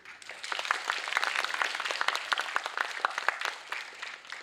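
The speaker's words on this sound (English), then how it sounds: "Let's all give them another round of applause for all their work today." Audience applause at an English poetry writing and recital contest in Macao, a dense, steady burst of many hands clapping at moderate distance for about four seconds, without talk.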